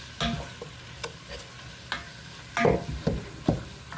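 Peppers and onions frying in a pot on medium heat, with a low sizzle under several scraping stirs and knocks of a utensil against the pot, the louder strokes clustered toward the end.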